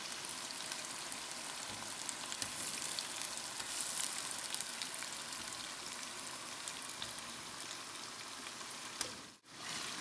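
Khoya, about half a kilogram, added bit by bit to hot desi ghee for pumpkin halwa, giving a steady, dense close sizzle and frying crackle that runs unbroken, with a brief dip near the end.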